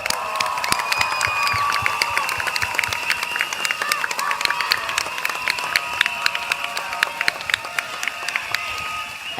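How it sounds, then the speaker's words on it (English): A big outdoor political rally crowd in Jurong West, Singapore, claps and cheers continuously. Sharp individual claps crackle over a steady roar of voices and whistles, loud and sustained throughout. "A big round of applause to yourself"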